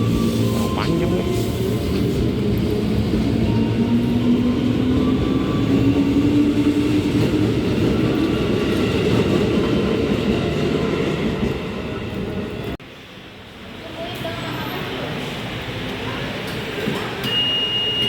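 Interior of an Indonesian commuter train heading to Cisauk station, with a steady rumbling ride, a slowly rising motor whine, then a sudden quieter stretch as doors open; voices murmur faintly in the background.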